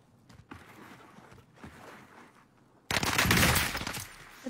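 Video game gunfire erupts loud and dense in the last stretch, a rapid close burst of shots after quieter shuffling movement.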